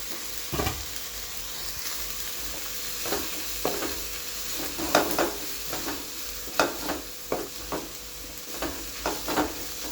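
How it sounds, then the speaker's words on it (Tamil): Coriander being sautéed with onion, tomato and radish in a pan for radish chutney, a continuous low sizzle broken by repeated spatula scrapes and taps at close range. "இப்போது வெங்காயம் தக்காளி முள்ளங்கி எல்லாம் நல்லா வதங்கியிருக்கு இந்த டைமில் ஒரு பிடி கொத்தமல்லியை போட்டு லைட்டாக வதக்கினா போதும்"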